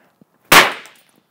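A Cracker Jacks Super Popper firecracker goes off in one sharp, very loud bang up close, followed by a brief fading ring-out, with only a tiny faint tick beforehand.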